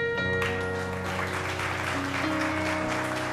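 An audience applauds at a solemn civic ceremony marking 160 years since Freud, a dense, steady wash of clapping that runs unbroken with faint tonal music beneath.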